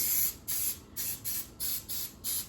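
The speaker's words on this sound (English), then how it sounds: "now I'm hitting this with just a couple of sprays of, I don't really know what's in here, and it's probably better that I don't, Vegeline food release spray" Vegeline food release spray hisses from a can in quick, even bursts, about six in a row, while vegan double chocolate zucchini muffins are prepared in a home kitchen; close and fairly quiet, with no talk.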